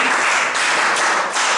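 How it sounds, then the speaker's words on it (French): A classroom gives a student a burst of applause: dense, loud clapping from many hands, steady from start to finish with brief swells. "Applaudissez pour lui."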